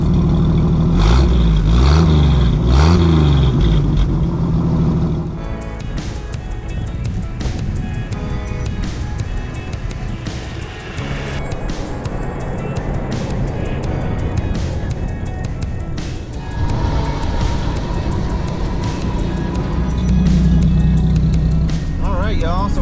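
A 1954 Chevrolet Bel Air sedan with 33k original miles drives along Texas back roads, its engine giving a loud, steady drone with road rumble and an early revving surge.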